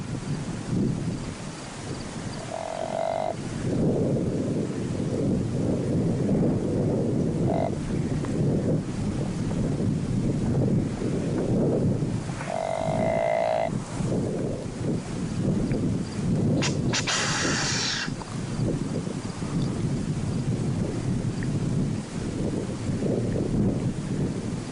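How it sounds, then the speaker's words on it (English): Strong gusting wind roars across open Colorado country during a mule deer hunt, buffeting the microphone with a loud, continuous low rumble that surges and eases, with brief faint tonal sounds now and then. "With this wind gusting this hard, this buck probably couldn't hear Keith's grunts or his challenge wheeze."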